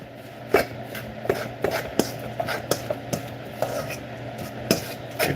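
Salmon sandwich filling gets mixed with mayonnaise in a bowl, a utensil knocking and scraping in an uneven rhythm of soft thuds and clinks, close and moderately loud, with no voices.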